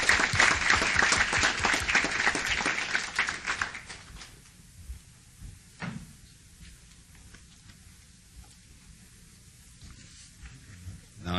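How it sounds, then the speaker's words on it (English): City council meeting audience giving a round of applause, a dense burst of clapping for roughly four seconds that quickly dies away into quiet room tone with a few stray knocks. "Another round of applause, please."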